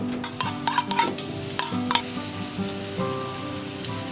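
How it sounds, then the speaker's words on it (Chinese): Scallions and garlic stir-frying in hot oil in a wok crackle and sizzle up close, with quick clattering spatula strokes early on over a continuous frying hiss and no voices. "我热锅加一点油，然后把葱蒜给爆香"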